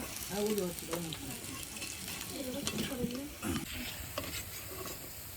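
Fritters (bora), including chili fritters, deep-frying in oil in a home kitchen on a cold winter day, a steady close sizzle running underneath people chatting, with a few sharper clinks and crackles.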